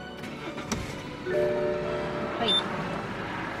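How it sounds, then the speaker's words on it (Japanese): A BMW engine is started: a brief mechanical click and whir, then the engine catches and settles into a steady idle hum, heard from inside the car with a short spoken word. "エンジンをかけたいと思います"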